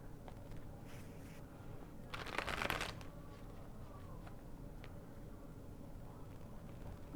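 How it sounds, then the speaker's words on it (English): A quick burst of tarot card shuffling, crisp riffling for under a second, close and fairly quiet against a soft background hum. "One more shuffle."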